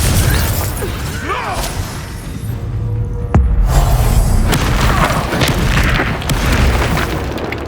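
A Confringo blasting spell in Hogwarts Legacy goes off as a deep booming explosion with a brief sharp crack, set within a loud, continuous bed of game combat sound effects and music.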